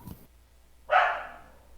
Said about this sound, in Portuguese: meus cachorros estão fazendo bastante barulho hoje